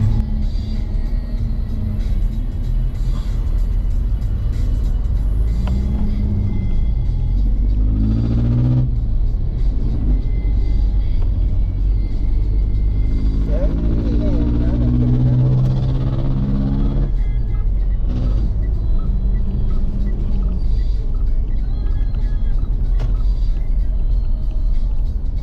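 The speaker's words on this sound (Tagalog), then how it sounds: "Stuck na kami sa traffic." Stop-and-go traffic on Aguinaldo Highway, heard from inside a vehicle, gives a constant loud low rumble. Engines surge and rev now and then, with brief hisses like air brakes, and there is no talk.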